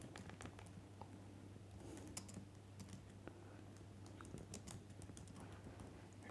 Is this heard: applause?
no